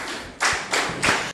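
An audience claps to welcome a team of contestants, three close, loud bursts of applause in quick succession, then a sudden stop.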